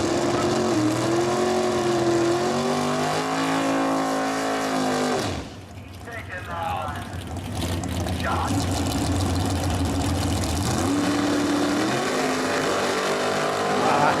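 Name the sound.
muscle cars racing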